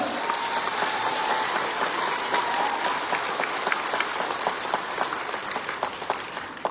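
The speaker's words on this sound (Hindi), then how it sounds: "ताली होता है, ये करने से भी आवाज आता है।" Steady applause from a crowd fills the space at moderate distance, an even wash of many clapping hands that gradually eases off near the end.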